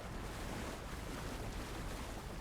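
Steady, dense rushing wash of underwater water in Alan Wake 2, a continuous muffled roar like surf or wind, loud and unbroken with no talk over it.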